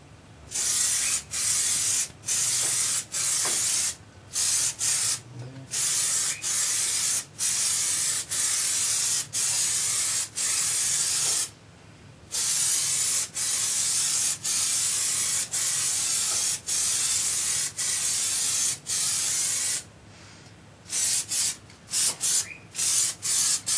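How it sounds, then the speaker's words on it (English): Aerosol can of Plasti Dip sprayed onto Halo 4 Master Chief armour, mostly into the gaps between the back piece and undersuit: repeated close, loud hissing bursts of varying length separated by short pauses. "I'll be actually spraying a little bit into that gap"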